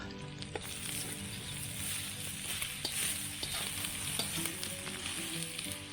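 Onions sizzling and frying in a pan over an open campfire, with a steady crackling hiss and occasional soft stirring clicks throughout, nearby and moderately quiet, no voices.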